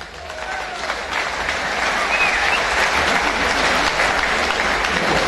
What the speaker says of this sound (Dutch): Ontvangt u ze met een groot applaus.